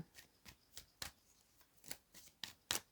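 A deck of tarot cards is shuffled in quick, soft riffling bursts, about eight crisp rustles spaced unevenly over a quiet background, close and faint.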